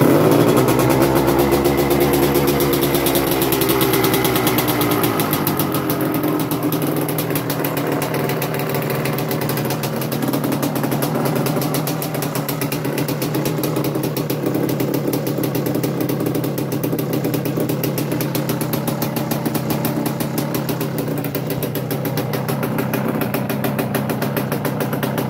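A 1985 Yamaha Tri-Z 250 three-wheeler engine, under restoration and choked to start, cranks and catches, then settles into a loud, steady, slightly uneven two-stroke idle that runs throughout, heard close and alone.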